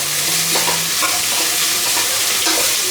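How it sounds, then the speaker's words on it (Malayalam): Curry leaves sautéed and stirred in a pan for Kerala-style chicken curry make a loud, close, crackling sizzle, with the scrape of stirring running through it continuously. "ഇതിലേക്ക് കുറച്ച് കറിവേപ്പിലയും കൂടെ ചേർത്ത് കൊടുക്കാം. എന്നിട്ട് നല്ലപോലെ ഒന്ന് വഴറ്റിയെടുക്കാം"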